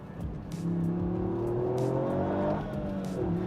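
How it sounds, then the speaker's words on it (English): Toyota GR Yaris hot hatch engine pulling hard, a steady rising drone with induction intake suck climbing in pitch, then briefly dipping and building again, loud and close without talk. "It's the induction noise alone. It goes, you can hear the suck on the air filters."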